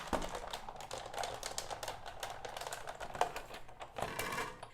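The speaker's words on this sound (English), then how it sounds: "I'm going to bring in my die cutting and embossing machine, and I'm going to emboss this layer using the subtle folder" A die cutting and embossing machine pressing a card layer through an embossing folder, giving a rapid close train of clicking, ratcheting taps for a few seconds, with no voice.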